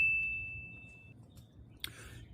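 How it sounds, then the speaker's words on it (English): A single notification-bell ding rings out and fades over about a second. It is faint and alone, followed by a soft rustle and a brief clatter near the end. "and you click the notification bell"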